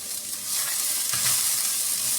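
Onions sizzle steadily in a hot pan, with a spoon stirring them through the oil in scraping bursts; the crackle is close and fairly loud throughout, and no one speaks.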